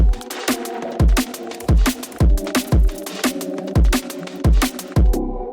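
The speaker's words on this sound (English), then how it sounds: "So like the full percussion sounds like this." Several layered drum loops play together as a full percussion track: a deep kick thumps about twice a second beneath busy hi-hats and snare hits, loud and steady until an abrupt stop.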